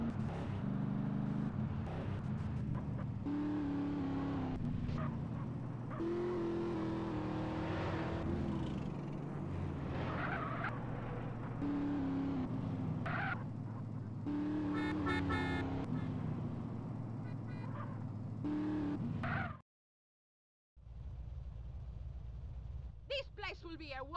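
A car's engine drones and revs while being driven fast in GTA San Andreas, steady and close under loud game dialogue, with a brief dropout near the end before the motor resumes.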